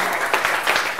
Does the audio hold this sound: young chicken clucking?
no